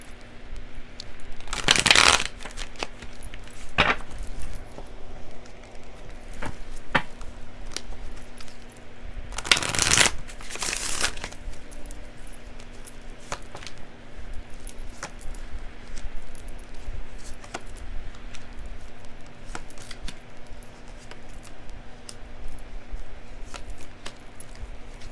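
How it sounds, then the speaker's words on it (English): Tarot cards shuffled by hand in a quiet room, with two loud riffling bursts early on and scattered soft card taps over a steady low hum. "Let me shuffle these, sorry."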